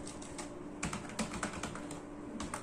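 Quick, light clicking of a computer keyboard as a username is typed, an irregular patter of close keystrokes over faint room noise, with no voice.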